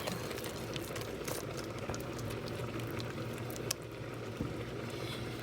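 Thick rhubarb mixture bubbling and popping steadily in a pot, a close, dense patter of small bursts with a few sharper pops.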